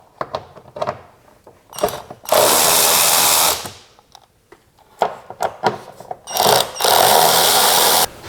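A power driver spins a socket on a long extension to loosen hose clamp screws on a Chrysler 3.6L V6 Pentastar engine, with several loud whirring bursts separated by clicks and quiet pauses, up close.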